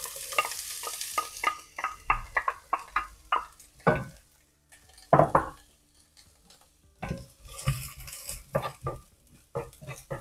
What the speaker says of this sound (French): J'attaque par l'huile d'olive. Hop. Et on met notre oignon et notre ail.